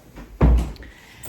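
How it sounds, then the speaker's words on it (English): A house door shut once, a single solid thud close by, with a brief rattle before it and quiet after. "just going to shut the door."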